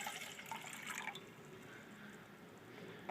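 Cold water pours for boiling on a homemade pack stove outdoors at about a mile high, a soft steady splashing stream that fades slightly, quiet and close with no talk.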